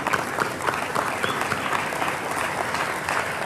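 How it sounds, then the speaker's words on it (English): An audience at an alumni association awards and athletic hall of fame dinner applauds an award recipient with steady, sustained clapping that fills the room evenly from start to finish. "Round of applause, please."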